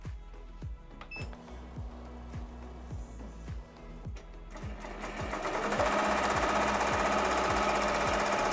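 An embroidery machine stitches a vinyl appliqué in a fast, even mechanical rhythm of needle strikes. The whirring grows louder and denser partway through, with no speech.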